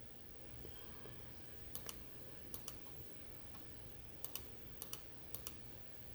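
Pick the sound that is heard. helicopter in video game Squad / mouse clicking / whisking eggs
mouse clicking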